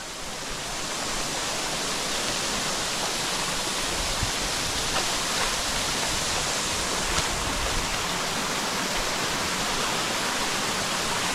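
A large waterfall in the Nallamala forest near Srisailam roars as a steady, dense rush of falling water, loud and unbroken from start to finish.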